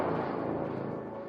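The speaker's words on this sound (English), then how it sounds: "This is another brass hit that I made by layering a few things together." Layered brass hit sample built from several stacked sounds, a thick, loud, sustained burst with rich low and mid tones that slowly decays over a second and a half, alone.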